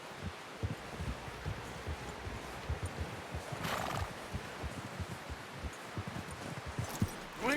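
A horse in Red Dead Redemption 2 clip-clops along at a steady walk with soft rustling around it, and one short whinny rises in the middle.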